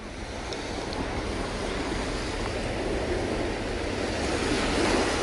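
Surf washing onto a beach beside a breakwater in Yeongdo, Busan, during a fishing trip, a steady broadband wash with soft swells, mixed with wind rumble against the microphone.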